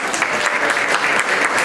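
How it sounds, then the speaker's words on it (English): Wedding guests give a round of applause after a speech. The dense clapping is loud and continuous across the whole moment. "Another round of applause"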